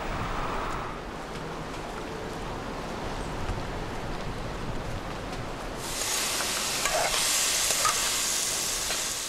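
Onions, sweet pepper, garlic and tomatoes frying in vegetable oil for a traditional Jamaican dish, a steady soft sizzle that swells into a louder hiss midway, close and with no voices.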